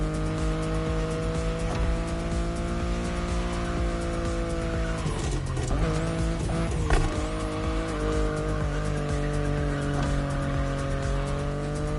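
A BMW i8 driven in the racing game The Crew Motorfest: a steady engine drone with strong harmonic tones runs throughout at constant loudness, with brief tire-squeal or skid bursts around the middle.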